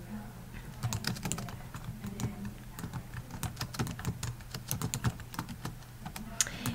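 Rapid typing on a computer keyboard, a dense run of close, crisp key clicks with uneven rhythm and a few heavier strokes, with faint background hum.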